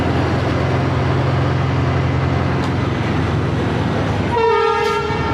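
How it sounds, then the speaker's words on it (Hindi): The Tezgam express train pulls out for Karachi with a constant loud rumble of rolling cars, and a long, steady horn blast sounds near the end. "और फिर ये ट्रेन कराची के लिए रवाना होगी"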